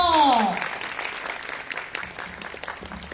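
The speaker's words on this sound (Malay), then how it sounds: "Beri tepuk tangan" An audience at the Miss and Mister Petite Sarawak 2019 semi-final breaks into loud clapping that starts at full strength and then tapers to scattered, thinner applause.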